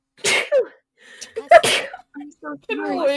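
A single sharp sneeze bursts out close to the mic early on, followed by casual talk between players during a Stardew Valley game stream.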